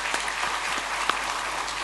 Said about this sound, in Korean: 박수로 환영하며 축복하겠습니다.